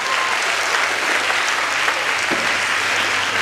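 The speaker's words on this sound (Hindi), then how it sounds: "मेहमान लोगों का स्वागत तालियों के साथ जरूर करना चाहिए।" Loud, close applause from a magic show audience welcoming small children onto the stage, a continuous wash of clapping that stays even from start to finish with a low steady hum underneath.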